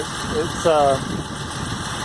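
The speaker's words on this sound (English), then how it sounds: "Here's the engine. You know, like I said, it runs good." A 1980 Mercedes-Benz 280TE with a manual transmission and mechanical lifters, its engine idling steadily with a low, even hum while someone speaks briefly over it.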